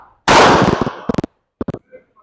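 A Tisas 4-inch double-stack 1911 pistol fires one sharp, loud report, followed by a few quicker, fainter cracks and a short tail of quieter pops.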